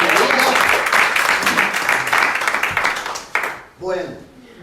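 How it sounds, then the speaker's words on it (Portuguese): A church congregation breaks into dense, loud applause that rolls on steadily for several seconds, then stops abruptly and gives way to a voice speaking. "Pode aplaudir a Jesús ahora."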